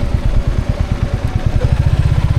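A motorcycle engine idles close by, its exhaust thumping in a fast, steady rhythmic putter.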